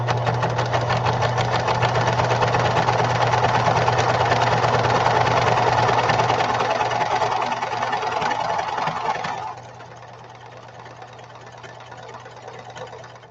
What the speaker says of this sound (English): It's because the machine is bouncing its way through its stitches.